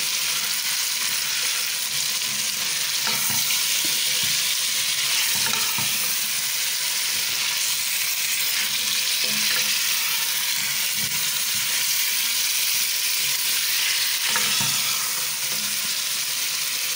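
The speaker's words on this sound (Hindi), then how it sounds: "आलू के पीस ये भी मैं इसके अंदर शामिल कर दूँगी और अब मैं इसको अच्छी तरीके से भून लूँगी।" Chicken and potato pieces fry in a pan for a home-style curry, giving off a loud, continuous sizzle with occasional stirring scrapes and clatters throughout; no talking.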